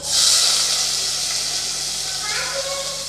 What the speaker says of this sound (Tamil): நல்லா செவக்க வதக்கி விட்டுடலாம்